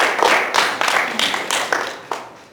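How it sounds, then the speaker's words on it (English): An audience claps in a short round of applause, a steady wash of many hands with several sharper bursts, fairly close and loud with no talking over it. "Everybody give a round of applause."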